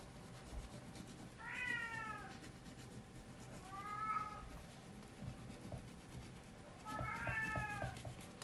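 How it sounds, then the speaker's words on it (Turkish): A cat meows three times, drawn-out and fairly quiet, spaced a couple of seconds apart over a low background hum. "Kedimin sesini muhakkak duyuyorsunuz arkadaşlar"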